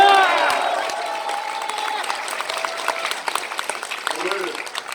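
A crowd at a political rally cheers and shouts together, the roar fading a little as scattered claps and whoops carry on beneath an amplified voice.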